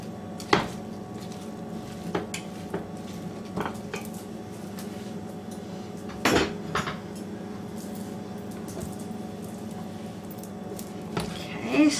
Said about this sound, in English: start stirring and breaking that up